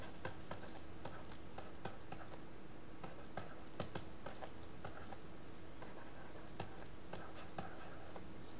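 Handwriting on a board during a sixth-grade math exercise correction, with quick scratchy strokes and taps in uneven bursts over a steady room hum, fairly faint.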